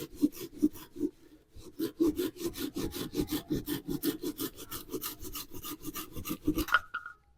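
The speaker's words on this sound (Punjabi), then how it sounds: "ਥੋੜੀ ਜਿਆਦਾ ਲੰਮੀ ਸੀ ਇਸ ਕਰਕੇ ਅਸੀਂ ਵੱਢਣ ਲਏ ਇਹਨੂੰ" A homemade broom's handle being cut down to a shorter length gives steady, close rasping strokes in a quick even rhythm for about seven seconds, with no talking, ending on a brief higher tone.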